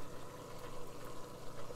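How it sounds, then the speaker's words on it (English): An Aerogarden hydroponic unit's air pump, pushing air into the water, hums and buzzes steadily with a low vibrating drone throughout, close by and fairly quiet, with no talking. "you can hear my pump running here in the Aerogarden"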